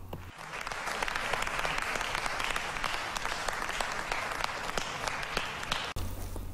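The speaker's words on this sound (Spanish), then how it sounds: "hay que darle un grandísimo aplauso a Sony" Sustained crowd applause with dense clapping fills the whole stretch, loud and steady for about six seconds before cutting off abruptly near the end.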